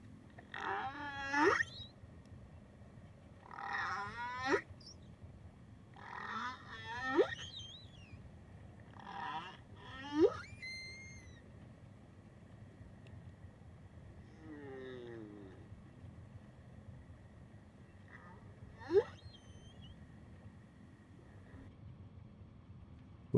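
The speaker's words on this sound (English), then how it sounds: "You'll hear the whale song in the background though." Whale song recorded underwater in the Kenai Fjords, with a series of moans, rising whoops and squeaky calls spaced across a quiet hiss, some calls loud and close and others fainter.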